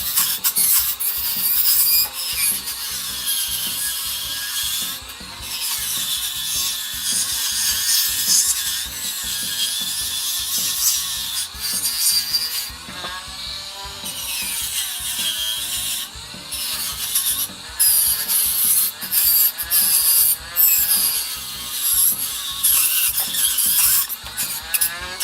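Sandpaper rubs and rasps over a carved wooden hammerhead shark in steady, close scrubbing strokes with brief pauses, continuing throughout with no speech.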